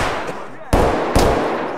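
Gunfire in the video game Escape from Tarkov during a scav run, two sharp loud shots about half a second apart, each with a short ringing tail, over a busy game background.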